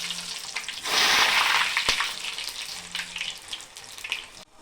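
Smiley potato snacks bought from DMart hit hot oil in a cast iron pan, giving a loud sudden sizzle that swells, then settles into a steadier crackling fry with a sharp clink partway through.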